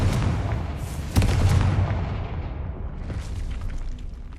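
A Confringo explosive spell blasts in the video game Hogwarts Legacy, a sharp boom landing amid a dense rumbling, crackling game soundscape that stays loud and then slowly thins out.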